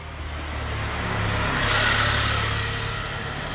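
Vehicle engine and exhaust noise at a simple roadside workshop, a steady mid-pitched running rumble that swells slightly and eases off over a few seconds, with no talking.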